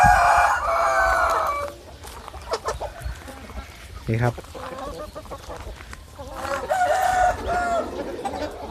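Native Thai chickens crow loudly nearby in a garden, with clucking and other fowl calls in between and someone speaking briefly.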